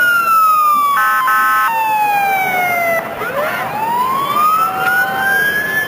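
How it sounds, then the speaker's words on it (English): Paradise Fire Department fire truck sirens during the Gold Nugget Days parade, a loud continuous wail sweeping up and down with overlapping tones, steady and close throughout. "those sirens mean one thing. Here they come. The Paradise Fire Department."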